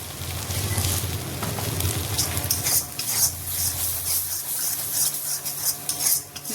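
Masoor dal being stirred and fried in a kadai, a steady scraping stir with clinks of the spoon against the metal over a soft continuous sizzle, close and alone.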